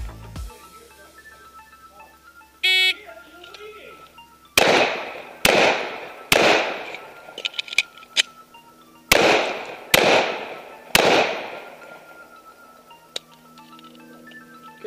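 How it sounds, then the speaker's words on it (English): Pistol shots ring out during an IDPA course of fire, a shot timer beep first, then sharp cracks in two groups of three to four with a pause for a reload between, each echoing briefly. "Draw, fire one shot each target, reload from slide lock, re-engage each target with one round."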